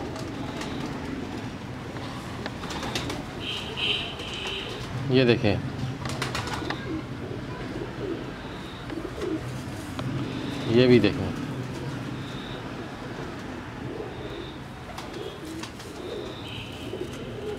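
Old Jaunsri Teddy pigeons coo from a breeder's loft in two clear bursts, with softer calls scattered between, under steady chatter from people nearby.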